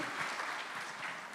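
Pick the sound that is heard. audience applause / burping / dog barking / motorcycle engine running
audience applause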